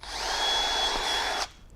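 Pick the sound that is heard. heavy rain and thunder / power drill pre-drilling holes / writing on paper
power drill pre-drilling holes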